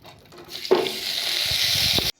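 Ghee hitting a hot pan for chicken nihari, with a sudden loud sizzle that starts abruptly and holds as a steady, close frying hiss until it cuts off.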